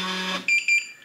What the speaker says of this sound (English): you're going to hear a long beep and see a green flash here, meaning your code has been added